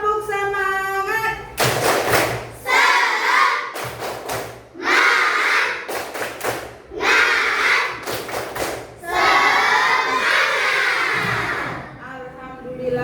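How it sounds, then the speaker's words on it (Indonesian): A classroom of fourth-grade schoolchildren performs the tepuk semangat clapping chant, loud rhythmic bursts of many hands clapping together in patterned groups, with the children's voices chanting between and over the claps and a teacher's voice at the start. "Nah, untuk sekali lagi tepuk semangatnya ya. Tepuk semangat."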